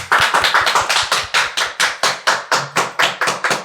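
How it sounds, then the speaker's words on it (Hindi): A small group claps together after a board-exam topper's interview, giving a quick run of sharp, evenly spaced claps that stay loud and close throughout, with no talking. "एक बार ताली बजाते हैं सब लोग"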